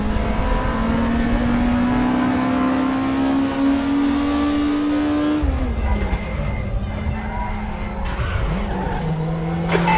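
Volkswagen Scirocco race cars in the RaceRoom sim, a loud engine climbing in pitch through a gear before shifting down, with tyre squeal and another car's engine nearby.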